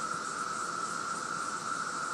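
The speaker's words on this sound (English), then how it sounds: "Cicadas everywhere." Cicadas in Woodbridge, Virginia, holding one steady, dense, high buzzing drone without a break, loud and close, with no other sounds over it.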